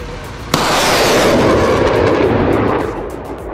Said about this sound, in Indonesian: M142 HIMARS dapat menembakkan 6 roket berkaliber 227 mm dengan jangkauan 15 hingga 150 km.